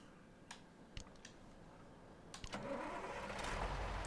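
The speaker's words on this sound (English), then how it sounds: "We want to start the engine." A truck engine in the off-road driving game Spintires MudRunner cranks and starts, with a few ticking clicks before it catches around the midpoint and settles into a steady, moderately loud idle rumble.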